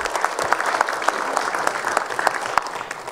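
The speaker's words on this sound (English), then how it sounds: "Let's give him a round of applause." An assembly audience applauds a chief being welcomed, with many hands clapping in a moderate, steady patter. A few sharper claps stand out close by, and no one speaks over it.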